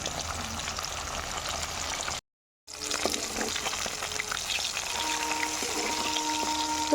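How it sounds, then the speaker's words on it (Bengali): Rohu fish pieces frying in hot oil in a pan, giving a steady close hiss and crackle with a brief silent gap partway through and a faint tonal clink near the end. "মাছগুলো আমি লাল লাল করে ভেজে নেব।"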